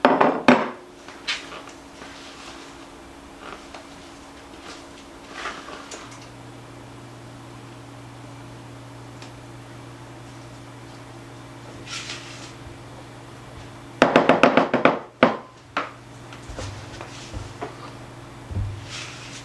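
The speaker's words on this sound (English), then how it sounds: "now I'm going to put it into an 8x8 greased pan" Corn bread batter scraped from a mixing bowl into a greased 8x8 pan, scattered soft scrapes and clacks at the start and a louder cluster of knocks near the end, over a steady low hum.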